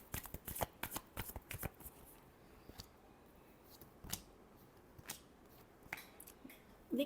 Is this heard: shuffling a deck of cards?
yes